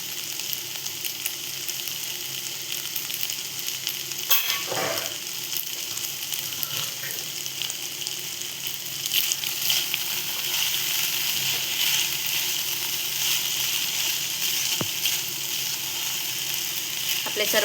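Vegetables for a sweet corn vegetable pasta frying in a pan, a continuous close sizzle with crackling and occasional stirring throughout.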